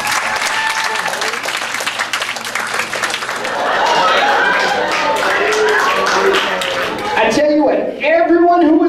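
An audience at a stage hypnosis show breaks into a big round of applause, dense sustained clapping that swells louder midway, with cheers and voices mixed in and a few laughs near the end.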